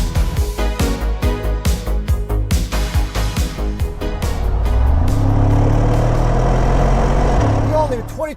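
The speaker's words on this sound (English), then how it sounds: "The all-new 2025 AMG G63. With race start for the first time." A 2025 Mercedes-AMG G63 doing a launch-control race start: loud, close engine with rapid pulsing revs held at the limit, then a surging, sustained roar as the SUV pulls away. Voices can be heard with it.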